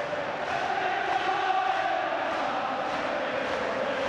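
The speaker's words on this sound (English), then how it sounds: "Another Celtic crowd are taking over in the background." Celtic football crowd at a home UEFA Cup match against Celta de Vigo in 2002 roars steadily after a goal, a dense sustained stadium cheer with no break.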